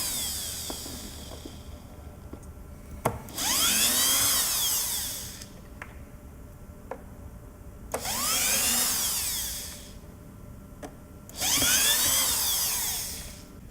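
A CNC machine cuts a board in three separate passes, each a loud sustained whine with sweeping pitch that rises and falls over a few seconds, separated by quieter hum and sharp clicks.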